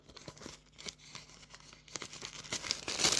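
A package holding a Visa bank card is torn open and its wrapping crinkled, with close rustling and ripping that grows louder toward the end.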